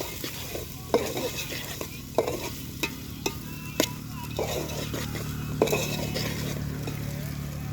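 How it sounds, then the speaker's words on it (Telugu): Ginger paste stirred in a frying pan at an outdoor farm-field cooking party, with a steady sizzle and a run of sharp scraping and clinking spoon strokes against the pan. "అల్లం పేస్ట్ వేసి ఇట్లా కలుపుకోవాలి కొంచెం"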